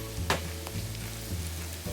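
Sausage rolls deep-fry in hot oil, giving a steady close sizzle and bubbling hiss with a few soft clinks, and no talking.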